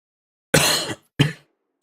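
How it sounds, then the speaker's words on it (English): Two short, harsh coughs or throat clearings close by, the first longer and the second a clipped burst, separated by silence. "Sorry for the coughing."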